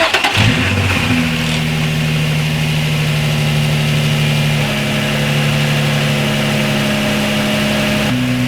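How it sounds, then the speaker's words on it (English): A car engine cranks and fires up for the first time after a Kinetix Velocity intake manifold install, then settles into a loud, steady idle with brief revs near the start and end. "first startup, guys."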